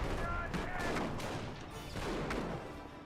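Gunfire from a trench in Company of Heroes, a World War II strategy game: scattered rifle and machine-gun volleys crackle in bursts amid steady battlefield noise, moderately distant and fairly quiet.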